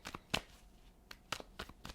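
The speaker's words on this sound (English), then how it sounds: "I'm going to shuffle and pull the first three cards." A deck of tarot cards shuffled by hand, several quick soft riffling snaps spaced irregularly over two seconds, close and quiet with no talk.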